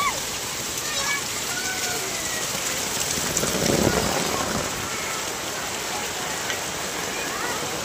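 Floodwater from uncleaned drains rushes and splashes continuously nearby as it enters homes in Rajendra Nagar, Kolhapur, a broad steady wash of noise, with faint voices underneath.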